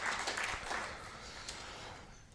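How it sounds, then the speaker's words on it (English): Audience at an African women theologians conference claps steadily, a dense, even patter of applause filling the hall without a break. "Give her another round of applause"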